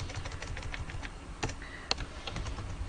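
Close computer keyboard typing at a brisk pace, Java code entered as a run of quick key clicks, with a couple of sharper strikes that sound like the spacebar or enter key.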